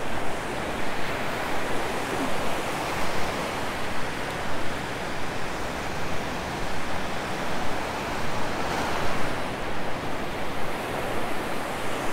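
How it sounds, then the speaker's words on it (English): Ocean surf rolls steadily onto the beach at Sanibel Island, a continuous broadband wash of breaking waves with gentle swells in intensity, fairly close and loud, with no voices over it. "We are walking Sanibel Beach. Sun is partially obscured and the waves are coming in."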